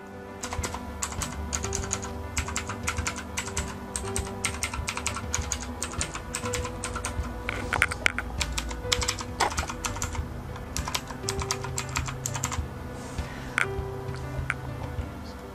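Rapid typing on a Thinkway CROAD K10 LED mechanical numeric keypad fitted with Outemu blue switches and unlubricated stabilizers produces a close, continuous stream of crisp, clicky keystrokes with no pauses.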